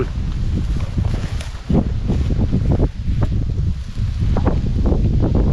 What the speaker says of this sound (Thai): ลมมันก็ดิตึง